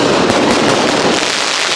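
A firecracker bursts into loud, dense crackling that fills the whole moment, sharp pops blurring into a continuous close-up crackle.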